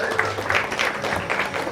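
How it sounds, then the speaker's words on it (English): An audience at a company sales meeting applauds Janet, a dense wash of clapping with music and voices underneath, moderately loud and continuous for a moment. "Give Janet a round of applause."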